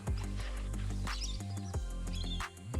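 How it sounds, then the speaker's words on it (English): Birds chirp in short, bright calls over a steady low hum beside a bay where cormorants and pelicans gather, moderately loud and repeated across the span. "listen to the birds and the trees around you"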